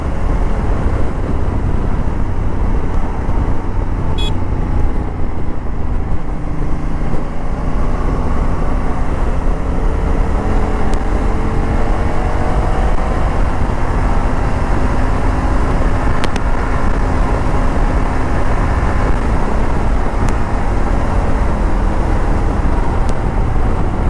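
Honda Africa Twin motorcycle cruising at 130 km/h, a loud, steady wind-roar and engine drone with faint shifting engine tones throughout, no talk.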